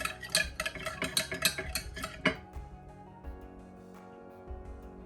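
A spoon stirs instant coffee or Nescafé mixture for coffee ice cream, giving a run of quick, close clinks and scrapes against the bowl for about two seconds, then quieter, sparse knocks.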